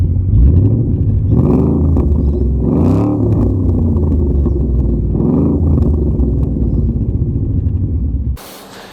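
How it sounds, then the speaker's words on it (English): A 2017 Ford Mustang GT V8 roars through its twin exhaust in several loud, close revs that rise and fall over a deep idle rumble, then cuts off abruptly into a short burst of noise. "we've got the twin exhaust there, which make one hell of a noise"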